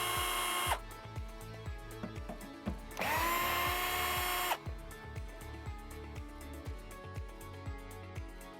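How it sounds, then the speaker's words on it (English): A power drill backs screws out of the side panel of a Space-Ray tube heater, with two short whining bursts and then a run of rhythmic ratcheting clicks, close and fairly quiet. "we're going to remove these 6 screws on the side so that we can get access to the blower fan."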